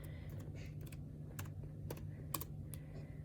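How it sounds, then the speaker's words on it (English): Quiet, close keystrokes tap out a short irregular run of clicks on a laptop keyboard as a password is entered, with a steady low hum underneath and no talking. "Oh, let me type in my password."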